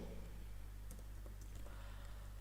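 Typing on a computer keyboard: faint, scattered keystrokes tap irregularly over a steady low electrical hum in a quiet room, with no talking.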